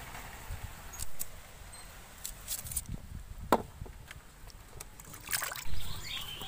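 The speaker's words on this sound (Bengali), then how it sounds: "এবার আমি পেঁয়াজটা সব কুচিয়ে নেব।" A knife chopping onion on a board, a few sharp scattered cuts, fairly close, with kitchen noise between.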